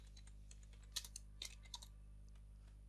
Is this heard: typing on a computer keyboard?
yes